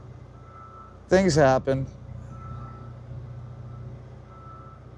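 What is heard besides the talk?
truck reversing beeps while backing into a dock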